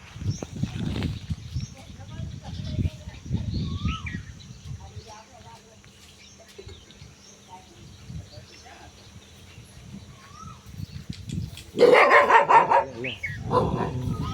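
A dog barks in short bursts, loudest near the end, with a person talking in the background and birds chirping faintly, outside a Tirupati Balaji temple.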